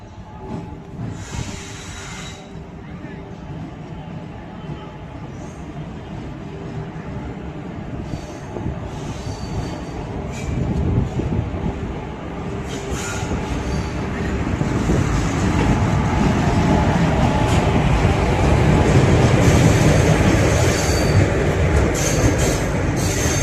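The Coimbatore–Madurai Intercity Express passenger train departs, rumbling steadily with rail clatter and hiss, growing louder and heavier as it gathers speed over about twenty seconds, with faint squeals.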